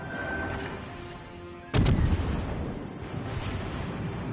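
Naval artillery in World of Warships Legends fires and lands a citadel hit on an enemy ship, with a sudden loud boom partway through and a rolling rumble that fades over a background of battle noise.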